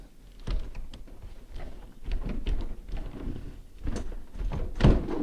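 A heavy sliding door is lifted so its bottom rollers come off the track during a repair, giving a series of dull thunks and scraping knocks of varying loudness, with a stronger bump near the end.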